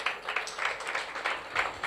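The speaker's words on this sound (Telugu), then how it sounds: "చప్పట్లు కొట్టండి ఒకసారి" Steady clapping from a church congregation during a Telugu sermon, a dense crowd patter of many hands rising and falling in small swells over a couple of seconds.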